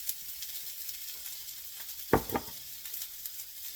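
Onions sauté in olive oil with a faint, low sizzle, and one sharp scrape or clatter of a utensil against the pan about midway.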